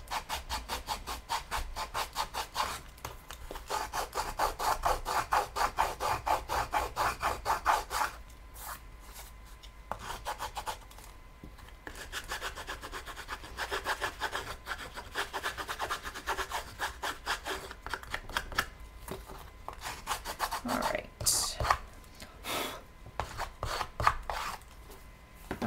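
Paper album edges are scuffed with sandpaper or a nail file, giving rapid, rhythmic rasping strokes that run in bursts, close and moderately loud, with short pauses between passes.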